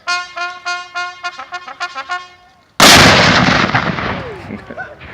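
A cannon fires at Eagle Island State Park, Idaho. Shouted firing commands come first, then a single loud, close blast with a long rumbling decay.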